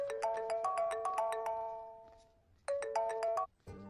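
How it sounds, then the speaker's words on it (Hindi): A phone's ringtone sounds for an incoming call, a bright repeating melodic chime played in two bursts with a short gap between them, fairly quiet and with no voices over it. "भैया, आपको किसी का फोन आ रहा है।"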